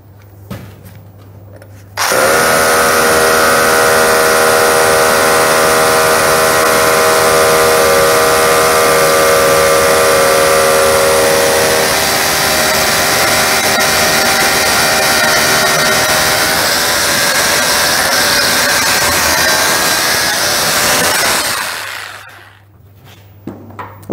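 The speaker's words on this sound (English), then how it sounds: "So we will be drilling for 140 mm of length" A power drill whines loudly and steadily for about twenty seconds while boring a 140 mm deep hole for a frame anchor, its pitched motor tone shifting slightly as it bores, then spins down.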